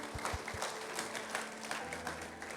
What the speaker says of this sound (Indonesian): kurang kenceng nih tepuk tangan nih